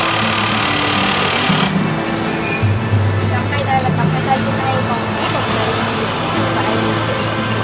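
A Bosch power drill runs at a hands-on training session, giving a steady motor whine with some shifts in load. A person talks loudly over it throughout.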